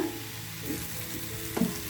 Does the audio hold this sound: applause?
no